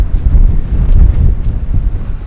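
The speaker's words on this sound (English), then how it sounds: "and this is so windy." Strong coastal wind buffets the microphone on a rugged stretch of the Lost Coast, a steady, loud low roar with gusty surges and no pauses.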